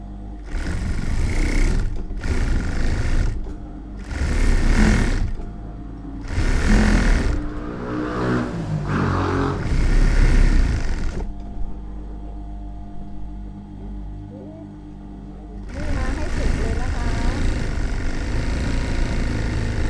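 A sewing machine stitches a dress in repeated bursts of rapid mechanical whirring, loud and close, separated by short pauses and a longer stop before a final steady run.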